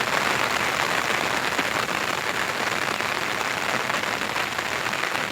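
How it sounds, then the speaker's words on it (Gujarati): Rain falls steadily on a cool monsoon day in Gujarat, a dense, unbroken hiss of drops on surfaces that stays loud and constant throughout, with no speech. "અત્યારે વરસાદ ચાલુ છે"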